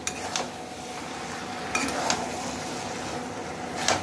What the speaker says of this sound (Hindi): इसको फिर 2-3 मिनट के लिए फ्राई करेंगे हम लोग